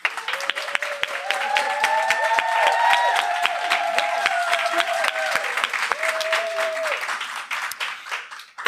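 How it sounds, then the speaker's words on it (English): A live audience at a Stitch Please podcast taping applauds and cheers for a keynote guest, a sustained, fairly close roar of clapping with voices calling out over it before it tapers off. "Let's get some applause."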